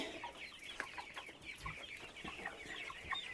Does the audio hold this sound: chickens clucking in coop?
yes